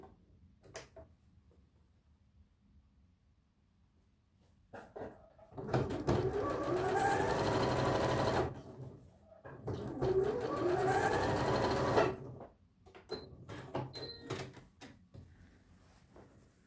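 Sewing machine stitching a tunic, two sustained bursts of fast mechanical whirring close by, each a few seconds long, separated by brief pauses and light handling clicks.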